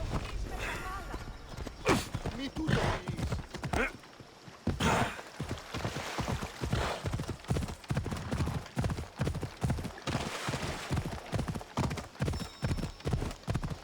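Horse hooves from riding in the game Assassin's Creed Odyssey, a steady galloping clip-clop close and loud throughout, with voices and breathy sighs heard over it.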